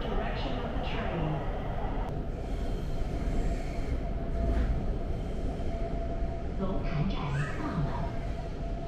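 A Guangzhou Metro Line 18 train pulls into a station with a steady rumble and rolling wheel noise, a brief faint squeal near the end, and a recorded station announcement speaking over it.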